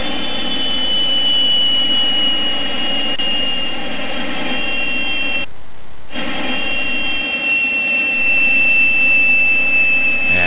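Twin jet engines of a Fouga 170 Magister idle steadily on the ground after landing, a loud continuous whine and roar with a sharp high tone that briefly dips near the middle, close and alone.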